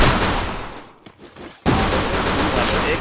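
Gunfire in the Free Fire video game blasts as dense, loud bursts of shots, drops briefly to quieter rumbling, then resumes abruptly at full intensity; no one speaks.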